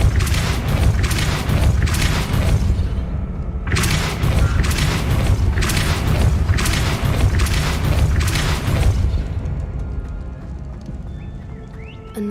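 Depulso spell impacts in Hogwarts Legacy, a series of loud booming blasts with rumbling debris, repeating in heavy pulses before fading to quieter clatter at the end, no talk.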